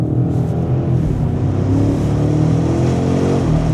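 A 2025 BMW M5 G90 accelerates on the road, its deep engine note rising steadily and loud throughout, heard from inside the cabin with no talking.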